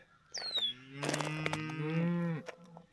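A cow lets out a single long, loud moo close by on a farm near a pasture gateway, the call swelling and holding before breaking off, with no talking.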